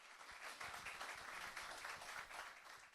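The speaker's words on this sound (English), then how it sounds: "So can we give Chris a big round of applause" Steady applause from an audience at a talk on tracking summer migrant birds, a soft, even wash of many hands clapping at a distance and holding level throughout.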